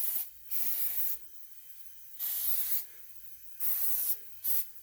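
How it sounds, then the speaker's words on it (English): Aerosol brake cleaner bursts onto the disc and caliper of a Can-Am Outlander 700 ATV, four or five loud hissing sprays of varying length separated by short pauses, heard alone up close. "Alright, and one final thing, brake cleaner."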